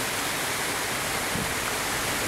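Steady, loud rush of flowing water from the Cañaralejo river, a dense continuous roar without breaks.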